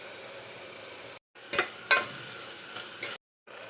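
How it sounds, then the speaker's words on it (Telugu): Onions and curry leaves sizzle in a pan as a tablespoon of ginger-garlic paste goes in, giving a loud steady frying hiss with a few sharp spatters and stirring scrapes, broken by brief silent cuts. "ఆనియన్స్ కొంచెం మగ్గాక 1 టేబుల్ స్పూన్ అల్లం వెల్లుల్లిపాయ పేస్ట్ వేసుకోవాలి."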